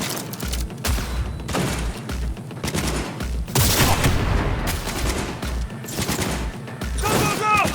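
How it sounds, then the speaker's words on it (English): Gunfire in the Cyberpunk 2077 video game: loud, dense volleys and repeated bursts of shots that keep going throughout, with booming thumps and voices mixed in. "Shoot!"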